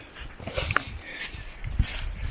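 A dog whimpers excitedly at nearby horses during a wild campervan stop in Poland: thin, high whines come in brief bursts over a soft outdoor background, with faint rustling.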